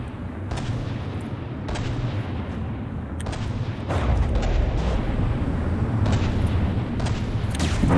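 Airship weapons fire in a From the Depths dirigible tournament battle, a steady series of heavy booming shots over a constant low rumble, loud and continuous without talk.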